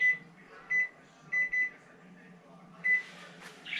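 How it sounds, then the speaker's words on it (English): Short electronic beeps from a kitchen timer set while cooking a BBQ turkey, four or five brief tones spaced irregularly over a quiet room background. "I'm going to set my timer for 8 minutes."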